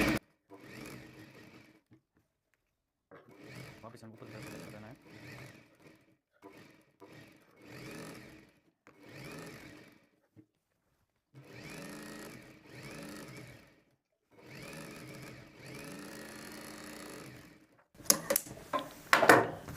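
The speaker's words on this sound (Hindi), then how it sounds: "इस प्रकार से हमें सिलाई वगैरह लगा के हमें अस्तर को फिट कर दिया है।" A sewing machine stitching the lining of a heavy-work Rajputi poshak runs in repeated bursts of steady mechanical whirring, each a second or two long, separated by short pauses, close and clear with no talk.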